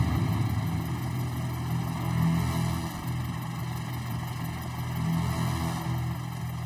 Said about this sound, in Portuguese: cumprimentam um helicóptero da guarda costeira